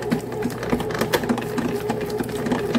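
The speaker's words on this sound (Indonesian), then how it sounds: "Karena di sini aku menggunakan mesin roti, jadi aku diamkan di dalam mesin roti sampai dia mengembang." A bread machine kneads enriched chocolate-bun dough with butter added, giving a steady mechanical whir with a regular thumping beat as the dough turns, close and fairly loud, with no talk.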